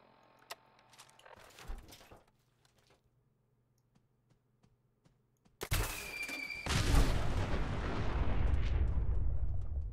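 Weapon fire in the video game Fallout 4: scattered faint shots and clicks at first, then a sudden loud blast that becomes a sustained roaring barrage, with brief talking early on.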